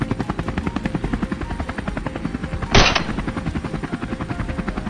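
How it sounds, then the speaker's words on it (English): A helicopter in a wild boar hunting video game beats with a steady, close, rhythmic rotor chop throughout, broken once by a short loud burst of gunfire midway. "We quickly maneuvered the helicopter into position, ready for an intense sweep."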